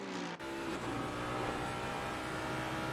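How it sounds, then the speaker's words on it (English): A V8 GT race car roars in a sim racing game at Bathurst, a continuous loud engine growl with a brief dip near the start, then steady under high revs with no talk. "God, that V8 sounds wonderful. The growl of it."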